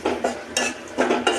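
Turmeric and cumin powder are sautéed in a pan, a utensil scraping and stirring in quick repeated strokes, close and fairly loud, with a light sizzle underneath.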